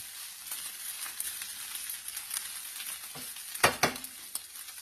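Shredded chicken pastil fries until crispy, a quiet constant sizzle punctuated by sharp spoon-and-pan scrapes, two louder stirs near the end, no voices.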